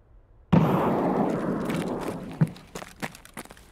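A grenade goes off in Escape from Tarkov, a sudden loud blast with a rumbling decay, followed by scattered footsteps and small impacts nearby.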